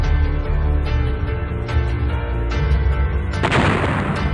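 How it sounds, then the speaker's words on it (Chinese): A substation equipment explosion, heard as loud, heavy rumbling booms with a sharp, crackling burst near the end. "变电站设备的爆炸"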